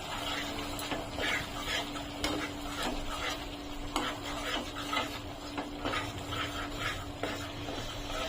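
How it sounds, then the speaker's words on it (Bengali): Pea curry masala being stirred and sautéed in a pan with a splash of hot water: repeated scraping strokes of a spoon over a constant sizzle, close and fairly loud, without speech. "দিয়ে আমি এটাকে ভালো করে কষিয়ে নিচ্ছি।"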